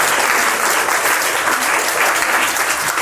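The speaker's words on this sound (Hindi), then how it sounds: "गुड, एक जोरदार ताली होनी चाहिए।" An audience of government-school children claps loudly and continuously at a quiz show, a dense, close burst of applause.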